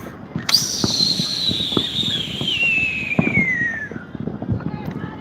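A Fourth of July firework on a Las Vegas rooftop lets out a long, descending whistle, with scattered pops and crackles around it and people talking nearby.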